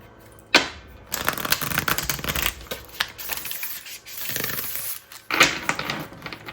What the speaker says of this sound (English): I'm just going to shuffle this once.